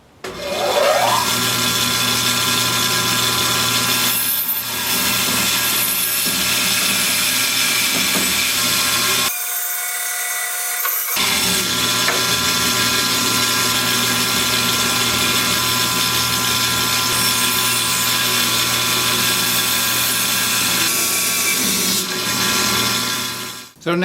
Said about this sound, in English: So off to the bandsaw I go.